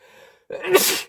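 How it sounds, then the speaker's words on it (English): One person lets out a single sneeze, a short breathy intake followed by a sharp burst, close and loud. "Sneeze."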